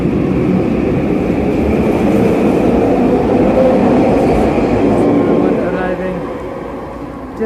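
A crowded Vancouver SkyTrain carrying hockey fans downtown rumbles steadily along the track, a continuous loud rolling drone that eases slightly near the end.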